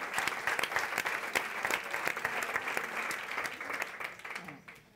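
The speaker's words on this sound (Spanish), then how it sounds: "Un aplauso para aquí, ella." An audience at a meeting in Oviedo claps in sustained, dense applause that stays loud for several seconds before thinning out at the end.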